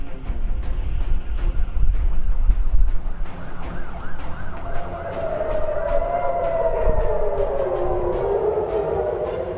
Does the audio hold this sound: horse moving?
no